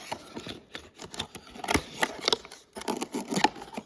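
Scissors snip open the plastic packaging of an organic mushroom growing kit in a quick series of crisp cuts and crinkles, close and fairly loud, with no talking.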